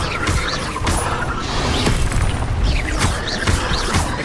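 Incendio fire spell cast in the video game Hogwarts Legacy, a dense burst of crackling, booming fire with repeated sharp impacts layered over busy game noise, loud and continuous throughout.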